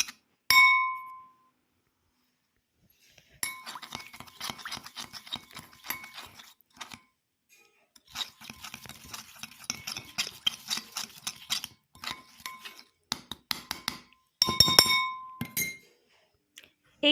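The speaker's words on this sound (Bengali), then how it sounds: "1/4 কাপ মতন মেল্টেড বাটারের সাথে 2 টেবিল স্পুন জ্যাগরি পাউডার বা গুড়ের গুঁড়ো দিয়ে ভালো করে মিশিয়ে নেব" Melted butter stirred with jaggery powder in a glass bowl gives bright, scattered clinks of a spoon against glass, coming in irregular bursts with short pauses, close and moderately loud with no talk.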